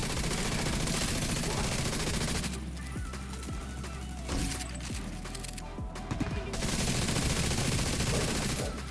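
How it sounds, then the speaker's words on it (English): Gunfire in The Division 2 as a deployed turret skill fires, with bursts of rapid shots in a dense, loud game mix. Quieter stretches in the middle carry the bursts. "I don't see my turret shooting."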